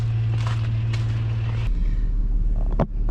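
An Isuzu VehiCROSS engine idles steadily with a low, constant hum that shifts pitch partway through, close and continuous with a brief knock near the end.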